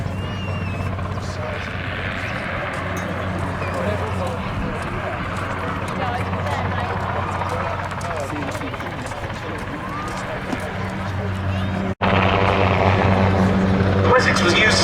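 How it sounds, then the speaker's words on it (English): A Westland Wessex helicopter flies at the Duxford air display, its steady rotor and engine drone loud and continuous, swelling slightly near the end. "Wessex was used as a search and rescue helicopter by both the RAF and, as we see here, the Royal Navy"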